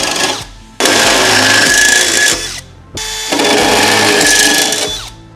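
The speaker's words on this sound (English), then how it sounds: "so that we can drill our holes for our plus nuts right there" A power drill bores holes for plus nuts while a Holman partition is fitted in a RAM ProMaster van. The motor whines loudly and close in two long sustained runs with a brief pause between them, and no voices.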